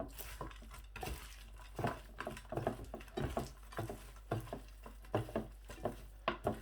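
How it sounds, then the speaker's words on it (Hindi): Spices for mutton biryani being stirred and mixed by hand in a metal pot or bowl, giving a steady run of light clinks and scrapes with soft patter, close and fairly quiet, with no talk. "इन तमाम चीज़ों को अच्छी तरह से मैं ऐसे मिक्स कर लूँगा"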